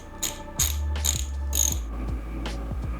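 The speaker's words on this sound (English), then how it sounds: "So when I loosen that 10mm nut right here" A ratchet wrench loosening a 10mm nut on a Triumph Bonneville T100 clutch lever, several close, sharp metallic clicks in quick, uneven strokes.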